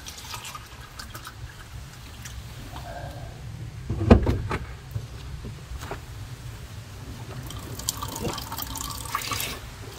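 Water trickles and drips from a line that has just been refilled, a quiet steady flow with a sharp splash or knock near the middle and scattered drips afterward.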